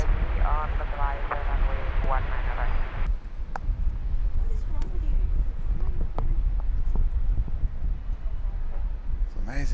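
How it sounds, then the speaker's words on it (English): An Airbus A350-900 of Singapore Airlines landing and braking on the runway at Brisbane Airport, a broad, steady roar of engine and wind noise with a tonal whine early on and a commentator talking over it. "It's amazing how they pull up so quickly, these A350s"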